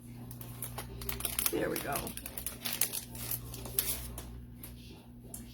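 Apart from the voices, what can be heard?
cellophane envelope crinkling as item is removed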